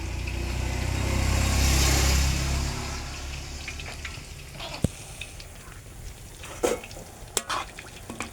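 Banana pieces fry in hot oil as they are stirred to keep them from sticking. A strong sizzle swells and then fades, followed by scattered sharp clinks and scrapes of the utensil.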